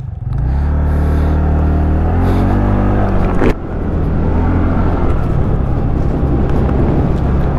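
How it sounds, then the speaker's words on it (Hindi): A TVS Ntorq 125 Race XP scooter's exhaust note rumbles loud and close, a low idle burble that swells as the engine revs, breaks off with a sharp click, then settles into a rough, steady drone. "इसका एग्जॉस्ट नोट सुनो"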